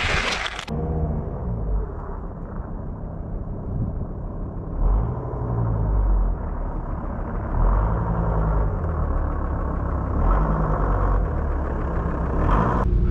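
Camper van drives along a coastal road in winter, a steady low engine rumble and road noise filling the cab, with a brief sharp noise at the start and slight swells in engine effort.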